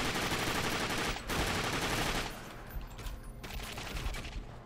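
Shotgun fire in the video game The Darkness 2, a dense burst of blasts filling the first two seconds, then quieter scattered shots and game noise continuing after.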